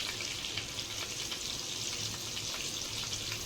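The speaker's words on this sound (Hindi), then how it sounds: "देखिए फ्रेंड्स, इसको ऐसे अल्टी पल्टी करके हम अच्छे से फ्राई कर लेंगे।" Homemade KFC-style chicken nuggets fry in hot oil, giving a steady, close, bubbling sizzle with faint crackles and no talking.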